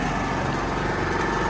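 A Raven MVP 7100 generator engine runs steadily nearby with a loud, constant buzzing drone and no pauses.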